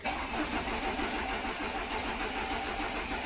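A Citroen BX engine cranks over steadily in neutral on the starter, a continuous loud mechanical churn with no talk.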